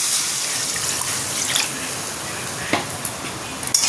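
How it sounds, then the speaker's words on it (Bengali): Water pours into a pan of cooked-down fish curry masala, a steady broadband rush with a few louder splashes and clinks near the end, close by and heard alone. "এবার এতে দিয়ে দেবো জল।"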